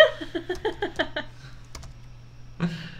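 Quick clicks ring out from a computer keyboard with missing buttons, about a dozen keystrokes in a rapid, even rhythm, then a pause with a couple of faint taps and a final short burst of typing, close and clear.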